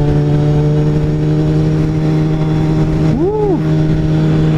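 A car engine revs hard while drifting, a loud sustained mid-pitched drone with one quick rev swell near the end, heard alone with no talk.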